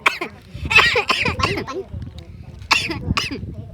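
Repeated harsh coughing fits, several sharp bursts in quick succession close to the microphone, with throat clearing and breathy pauses between them.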